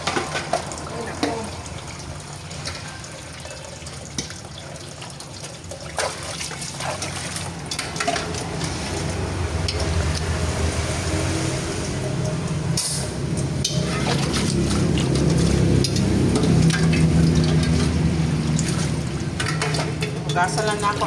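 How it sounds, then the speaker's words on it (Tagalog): A pressure cooker being washed under running water from a tap, with a steady trickle and splash that grows fuller and louder in the second half, and a faint voice in the background. "Hugasan lang ako ang pressure cooker"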